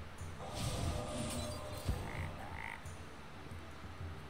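A frog croaks in the Hearthstone card game after a Hex spell turns a minion into a frog, a short croak over busy game sound effects and music.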